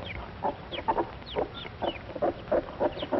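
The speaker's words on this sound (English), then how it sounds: "These are Plymouth Rock chickens." Plymouth Rock hens on a poultry farm cluck in short, soft bursts, with a few higher chirps from chicks scattered between them, all fairly close and with no talking.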